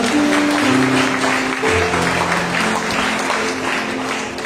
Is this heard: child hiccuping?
no